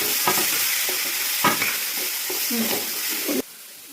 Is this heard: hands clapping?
no